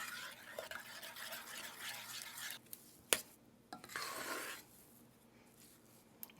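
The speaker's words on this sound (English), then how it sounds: "Now that I'm stirring and watching. A whisk at this early stage works" A whisk stirs a sauce in a pot on the stove, giving soft, irregular scraping and swishing strokes that come and go, with a sharp clink near the middle and a brief louder swirl afterward, heard alone at low volume.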